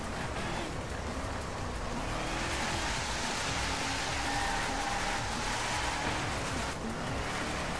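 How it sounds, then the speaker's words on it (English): A car engine in a Driveclub racing game, a deep, soft steady drone with broad road and wind noise, continuous and fairly loud without any talking. "It's still got a really soft engine regardless, but it's got that deep engine noise"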